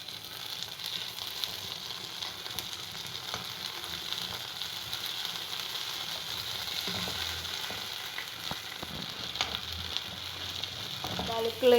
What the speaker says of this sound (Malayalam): ഈ മസാല നല്ല പച്ചമണം മാറുന്ന വരെ നമ്മൾ നന്നായിട്ട് ഇളക്കി കൊടുക്കണം